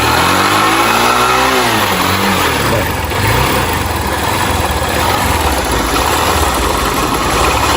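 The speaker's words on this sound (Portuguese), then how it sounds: "Acelera, vai acelerar." A 160 motorcycle engine with a knocking fault revs loudly and close, pitch sweeping up and falling back before settling into a rough, steady drone.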